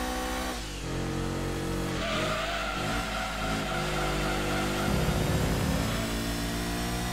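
A car races around a track in Gran Turismo 2, its engine droning and revving steadily up and down, with tyres squealing and skidding through corners; the steady loud engine tone carries on alone throughout.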